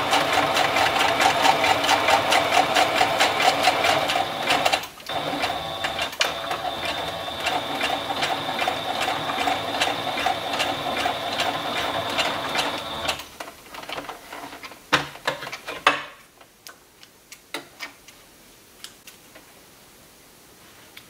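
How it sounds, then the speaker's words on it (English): A sewing machine set to zigzag stitch whirs steadily and loudly for about thirteen seconds, then runs in shorter bursts with mechanical clicks before falling quiet near the end. "I am going to switch my sewing machine to the zigzag"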